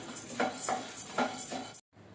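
Roasted gram dal (putnala pappu) being dry-roasted and stirred in a pan, with a steady rustle and a series of soft scraping, clinking strokes at a slow rhythm before a brief silence.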